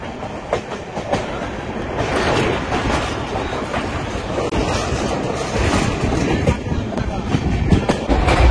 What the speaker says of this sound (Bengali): আজকে দেখলাম ফার্স্ট এই 8:50 ট্রেনটা ছাড়লো